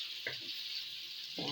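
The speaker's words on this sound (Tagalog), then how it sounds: "Unahin natin yung ating luncheon meat. Pa-light brown natin muna guys." Slices of luncheon meat fry in a home pan for a filipino sautéed vegetable dish, giving a steady close broadband sizzle with a couple of brief stirring scrapes and no talking.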